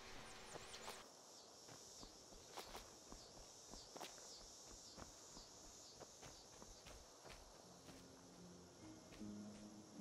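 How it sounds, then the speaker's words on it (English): Footsteps in Skyrim crunch irregularly through an outdoor scene, soft and fairly close, a dozen or so uneven steps over a constant high insect-like hiss and faint ambient tones. "Thought I heard footsteps."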